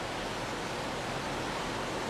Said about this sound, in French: C'est un torrent glacé.